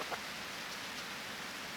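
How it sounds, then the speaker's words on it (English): Steady rain hisses in Harvest Moon: Grand Bazaar, a soft, even wash of falling drops with no talking and no other sounds. "It just keeps raining."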